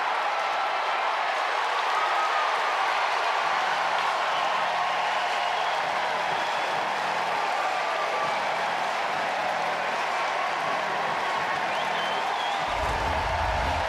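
A college baseball crowd at Virginia versus Kansas State roars after a go-ahead two-run hit down the left field line, a dense, sustained wash of cheering and applause that stays loud for the whole stretch.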